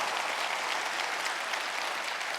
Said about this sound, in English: I want to give a big shout out and a hand clap to all the soldiers at Fort Hood